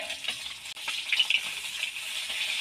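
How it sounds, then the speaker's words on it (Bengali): Pabda fish fry in hot oil in a covered pan, giving a steady, soft hiss and sizzle that runs throughout at moderate level, with no voices. "এবার এইভাবে আমি সবগুলো ভেজে নেব।"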